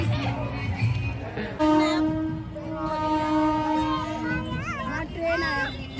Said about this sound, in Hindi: ट्रेन आया, ट्रेन